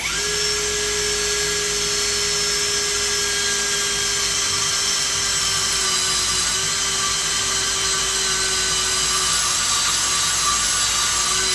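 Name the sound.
drilling hole in HEMI crank with long drill bit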